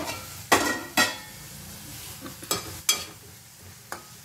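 Onions sautéing in a pan, a steady low sizzle beneath a handful of sharp metallic scrapes and knocks as a spoon stirs them, spaced irregularly and close by.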